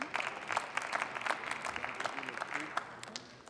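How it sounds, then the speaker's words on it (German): Members of the German Bundestag applauding in the parliamentary chamber, a soft, steady, fairly distant patter of many hands with faint murmuring underneath. "Applaus"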